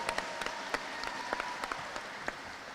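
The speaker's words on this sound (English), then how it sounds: "give her a round of applause" Audience applause at a university announcement of a new women's basketball coach, steady dense clapping throughout with a few sharper claps standing out, fairly close.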